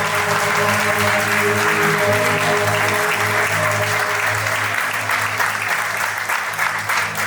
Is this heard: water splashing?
no